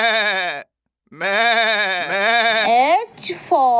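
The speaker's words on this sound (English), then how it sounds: "G for goat" Goat bleating in a children's phonics alphabet song: a few long, wavering, nasal bleats, loud and close, with a short gap between them.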